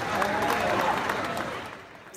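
Crowd applause at a political event linked to German chancellor Angela Merkel, a dense wash of clapping that stays steady and fairly loud, then thins slightly toward the end.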